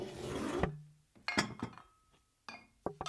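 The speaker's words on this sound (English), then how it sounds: "Cillian's mum puts the Play-Doh ingredients out on the table." Play-Doh ingredients being set out on a kitchen table: a long scraping rub, then a few separate knocks and clinks of containers placed down, close and fairly quiet with gaps of silence.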